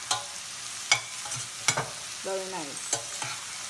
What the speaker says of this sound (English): So we'll just saute the mushrooms until they are soft.